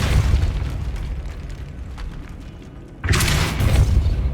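A Depulso spell blast goes off in Hogwarts Legacy, sounding as a sudden loud, bright booming burst near the end of a steady low rumble of game ambience.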